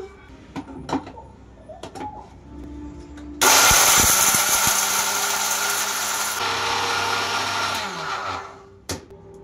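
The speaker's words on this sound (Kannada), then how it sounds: "ಇದನ್ನ ಚೆನ್ನಾಗಿ ಪುಡಿ ಮಾಡ್ಕೊಳ್ಳೋಣ ನೈಸಾಗಿ" A kitchen mixer grinder roars to life grinding dry vangibath spice powder, a loud steady whirring buzz lasting several seconds before it winds down and stops, with a few clinks before and after.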